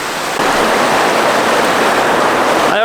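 A mountain stream in Val Zemola near Erto rushes steadily in a close, loud, continuous wash of water, with no talking over it.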